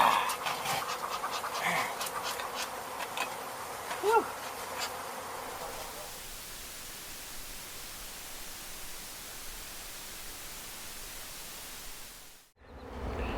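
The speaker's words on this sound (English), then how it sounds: "Bees are crawling in that box." Honey bees swarm around an exposed hive during a removal in Donna, Texas, making a steady dense buzz that is loudest early on and then settles into a continuous background hum before a brief cutoff.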